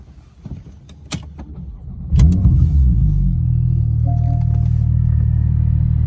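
A 2014 Porsche 911 Turbo with an upgraded exhaust cranks and fires after a few interior clicks and rustles, then settles into a loud, steady, rumbling idle close by.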